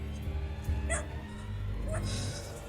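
Two short dog barks ring out some distance away, spaced about a second apart over a steady low hum.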